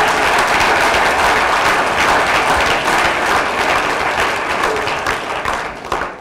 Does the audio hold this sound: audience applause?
yes